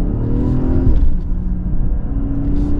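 A 2023 BMW 540i in Sport Plus mode accelerates with a loud, steady engine drone that rises briefly in pitch, with no talking.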